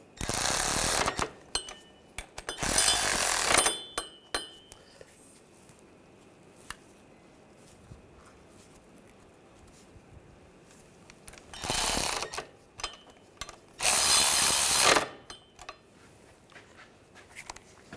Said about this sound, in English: Now that all the bolts have been started, we're just going to go around and snug these all up.